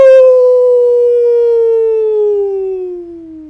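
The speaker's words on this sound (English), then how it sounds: "As a chorus of wolves begins sounding through the city." A chorus of wolves howls in a fantasy tabletop game scene, one long sustained rising-then-falling wail with rich harmonics that slowly slides downward and fades, loud and alone.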